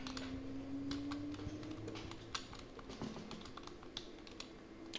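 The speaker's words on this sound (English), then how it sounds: "because of my keyboard being actually broken" Rapid, irregular clicking of keystrokes on a broken computer keyboard, fairly faint and close, with uneven bursts of taps over a low steady hum.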